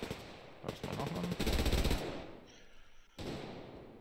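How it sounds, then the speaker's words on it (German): Machine gun fire in the video game Survarium: several rapid automatic bursts, near and loud, broken by short pauses, with gunfire sound effects from the game behind them. "I'm loving that machine gun."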